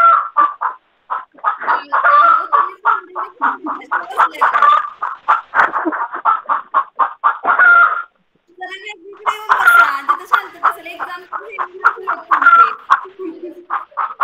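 Brooding hens cluck repeatedly and close by in quick rhythmic bursts, with a brief pause midway before the busy clucking resumes.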